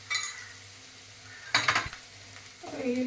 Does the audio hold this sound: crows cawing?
no